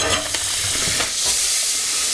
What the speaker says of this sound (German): Dann braten wir jetzt die Zwiebeln an, bisschen Sellerie, bisschen Maron.